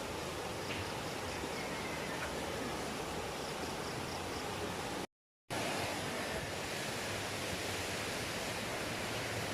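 Steady rushing water of a stream fills the whole clip with a broad, unbroken hiss, interrupted once by a brief silent gap.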